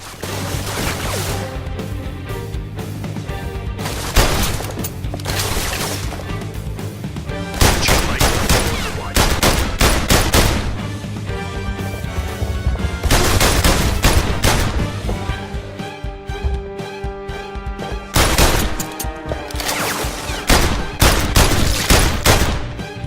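Gunfire in the PlayStation VR Worlds game The London Heist, sustained loud volleys of rapid shots and crashing impacts over more than twenty seconds with brief pauses.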